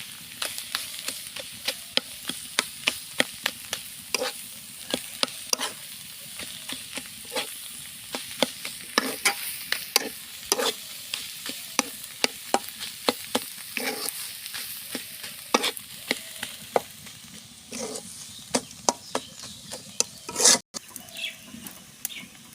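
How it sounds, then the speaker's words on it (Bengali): Leafy greens stir-fry in a pan for shak bhaji, a spatula scraping and tapping in rapid irregular strokes over a soft, steady sizzle, close and fairly quiet with no talking. "আমাদের শাক ভাজিটা হয়ে গেল অল্প কিছুক্ষণের মধ্যে শাক ভাজি হয়ে যাবে"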